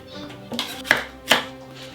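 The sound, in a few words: knife chopping red bell pepper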